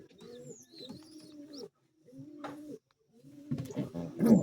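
Pigeons coo inside a home loft that holds chicks, giving several deep, rolling coos in repeated phrases, close and clear, with a louder rustling flurry near the end.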